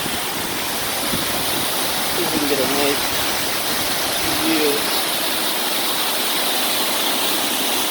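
Dunn's River Falls in Ocho Rios, Jamaica, where the waterfall runs down to the beach, roars as a loud, steady wash of water close by, with someone speaking briefly over the constant rush.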